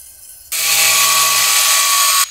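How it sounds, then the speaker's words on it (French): An angle grinder cuts through a ceramic wall tile in a loud, continuous high whine lasting about two seconds, starting abruptly after a short quieter lead-in and cutting off near the end. "Pour des ouvertures carrées, utilise la meuleuse d'angle."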